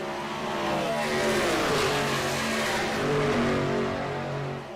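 Race truck engines roar on a track in the iRacing video game, a steady, loud, sustained drone of several engines with slowly shifting pitch, continuous for the whole stretch with no talk.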